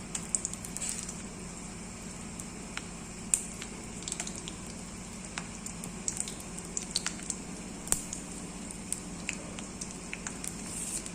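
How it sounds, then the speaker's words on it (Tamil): Chana dal and peanuts roast in a hot pan, giving a steady soft sizzle with scattered faint pops and crackles throughout, no voices. "கடலைப்பருப்பு, நிலக்கடலை பருப்பு சேர்த்துறேன். கொஞ்சம் வறுபடட்டும்."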